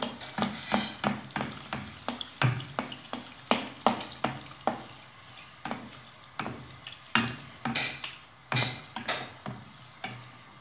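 Flatbread dough cooking in a hot pan, with a steady bed of soft sizzle broken by a long run of sharp, regular scraping and tapping knocks, close and moderately loud, no voices.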